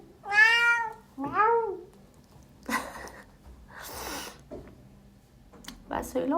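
A cat meows twice near the start, with clear rising-falling cries, then gives softer breathy sounds and a few short calls amid household noise and a voice.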